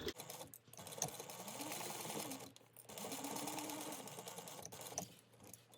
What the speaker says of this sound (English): You're going to sew this at a 1/4 inch seam allowance.